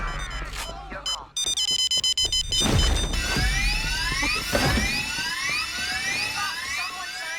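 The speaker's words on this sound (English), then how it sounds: "Someone sounded the alarm." An alarm blares in the Payday 3 video game amid crashes and chaotic game noise, with a loud rapid electronic beeping followed by repeated rising wails that carry continuously over the action.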